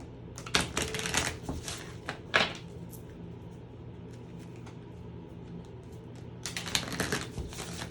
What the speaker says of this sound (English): That was an ugly shuffle.